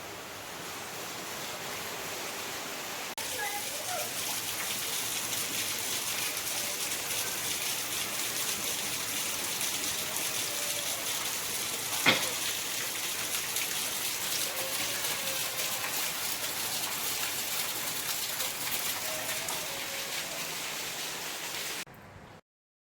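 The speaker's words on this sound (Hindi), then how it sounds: "बहुत विकट बारिश हो रही है।" Heavy rain falls in a steady, dense hiss that holds evenly loud for the whole stretch, with no talk over it.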